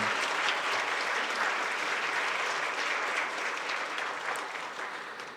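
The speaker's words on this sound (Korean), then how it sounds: "우리 한번 박수로 부탁을 드리겠습니다" A congregation at a church dedication thanksgiving service applauds its elders in a steady, full round of clapping that holds evenly and then slowly fades toward the end.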